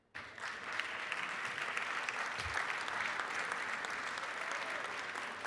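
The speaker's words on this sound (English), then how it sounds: "can we give a round of applause for our outstanding citizen, Deriki Gayuka" A legislative session chamber breaks into sustained applause for an outstanding citizen, a broad, even wash of many hands clapping that starts abruptly and holds steady throughout.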